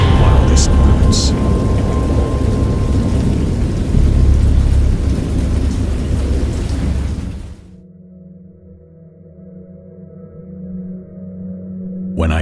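A loud thunderstorm in the video game Dagon, with heavy rain and rolling thunder for about seven seconds, then cutting to a quieter low hum before a faint burst at the very end.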